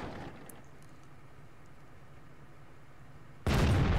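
After a few seconds of near silence, an SU-152 tank destroyer's gun in World of Tanks fires with a single sudden, loud blast that cuts in abruptly and carries through to the end.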